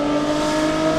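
A BMW M2 Competition with a Valvetronic Designs equal-length exhaust holds a loud, close, steady high rev, a smooth, sustained engine tone with no talk.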